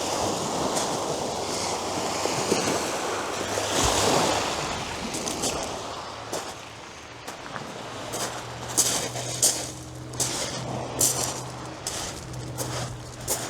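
Incoming tide flooding in over a beach, with waves washing and surging irregularly near the microphone, mixed with gusty wind buffeting and a low rumble; no talking.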